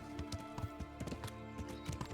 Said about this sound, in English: You can hear your horse on the other side of the door if you whistle for it.